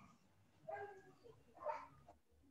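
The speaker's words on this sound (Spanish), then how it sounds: "Voy a cerrar la puerta por los perros." Dogs barking nearby during an evening prayer service, two faint, muffled bark bursts about a second apart over a quiet room with no talk.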